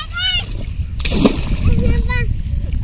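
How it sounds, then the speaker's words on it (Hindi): Children bathing in a river splash and slosh water close by, with their shouting voices and an adult talking throughout. "पानी मत फेंको जी"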